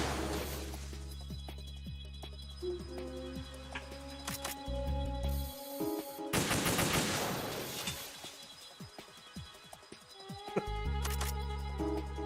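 Sniper rifle fire in the stealth game Metal Gear Solid 2 cracks out as several sharp, loud shots scattered among dense in-game effects and background music.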